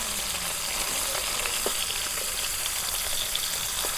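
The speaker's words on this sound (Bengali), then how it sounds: "আর তেল আমি পুরা গরম করে আমি মাছগুলো ভাজা নিতেছি" Pieces of rohu fish fry in very hot oil in a village kitchen, giving a continuous, even sizzle with occasional small pops and crackles close up.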